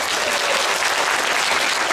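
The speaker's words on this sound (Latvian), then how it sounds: "Tikai aplausi!" Dense, steady audience applause fills a concert hall during a regional folk dance ensemble show, loud and continuous for the full stretch with no voices over it.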